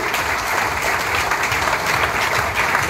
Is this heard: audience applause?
yes